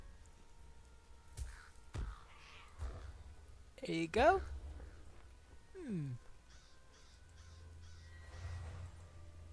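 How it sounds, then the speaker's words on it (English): Crows cawing in the Lord of the Rings Online video game, a few harsh calls around the middle of the stretch, with a voice speaking briefly over the game ambience. "there's another bird"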